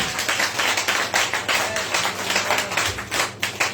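A church congregation claps together in a steady rhythmic beat, loud and close, a dense run of hand claps with a few faint voices mixed underneath.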